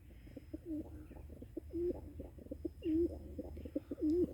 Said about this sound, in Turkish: Kaçak güvercinimiz geldi.